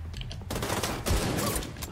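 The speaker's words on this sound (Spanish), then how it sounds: "5 tiros a la cabeza, eso es bueno" A rapid burst of gunfire in The Division crackles in quick succession, dense and loud, with sharp repeated shots over about two seconds and no talking.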